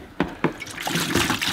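Coolant pours into a bucket, opening with two sharp splashy hits before settling into a steady close trickle and gurgle of liquid.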